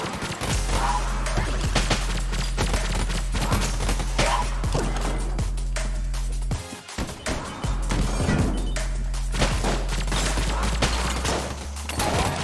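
Rapid gunfire from the video game Enter the Gungeon, a dense stream of sharp shots and crashing impacts over low, steady game music, with one brief break before the barrage resumes.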